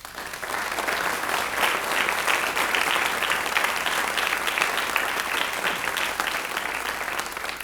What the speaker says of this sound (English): Please join me in showing our gratitude with a round of applause.